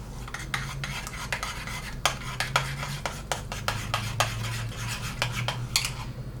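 A utensil whisks pancake batter in a bowl, giving repeated quick clinks and scrapes against the sides in an uneven rhythm over a low steady hum.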